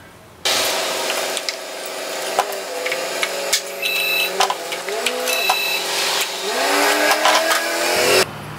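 A Ford F-Series pickup with the 5.4 three-valve V8 runs on the road, engine note rising and shifting through gears with sweeping pitch changes, plus intermittent rattles and clicks inside the cab, loud and close.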